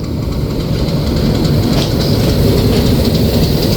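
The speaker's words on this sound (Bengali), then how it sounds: "এই ট্রেনটির নেতৃত্বে রয়েছে তেইশশো সিরিজের ইঞ্জিন যে ইঞ্জিনটির কোড নাম্বার তেইশশো তিন" The Dolonchapa Express on the Kaunia–Parbatipur line, hauled by 2300 series diesel locomotive number 2303, rolls along in a loud, steady rumble with continuous clickety-clack of wheels on rails and no voices.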